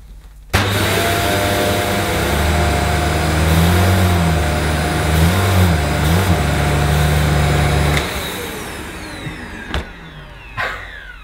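A Shark Lift Away TruePet corded upright vacuum runs loud and close on short-pile carpet at maximum suction, a steady high whine with wavering motor tones that dips as the load changes, ending in brief knocks.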